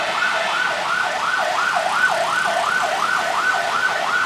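A wailing ambulance siren rises and falls rapidly in a continuous loop, loud and fairly near, over a low traffic hum.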